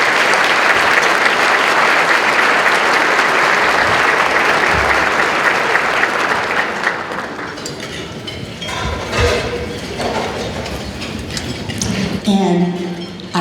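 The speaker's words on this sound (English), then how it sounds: "Let's give them a big round of applause" Applause at a Portsmouth, Virginia State of the City event, a dense hall-wide round of clapping that holds strong for several seconds, then thins out into scattered claps and murmuring voices.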